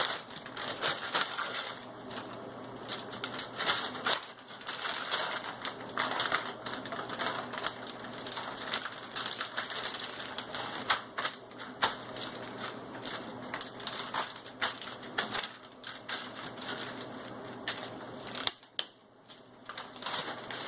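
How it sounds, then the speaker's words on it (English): A piece of meat sealed in a zipped plastic bag is pounded repeatedly, with dense, rapid, crunchy thuds and rattling at close range, continuing steadily with a brief lull near the end. "All zipped up, we'll start pounding this piece again."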